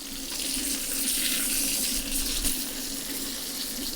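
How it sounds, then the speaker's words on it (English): Steady, dense sizzle of mutton frying in butter in a pan, a continuous hissing crackle at close range with no talking. "the sound of it in the pan is just incredible"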